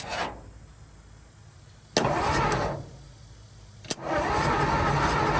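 The engine of a 1949 Ford truck, not run in over 45 years and fitted with an old coil, cranks twice in loud rough bursts with short pauses between them, then cranks again.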